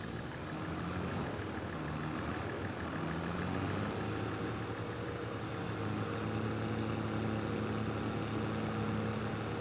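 A tractor engine idles in Farming Simulator 22, a steady low rumble that holds evenly throughout with no change in pitch or load, and no voices over it.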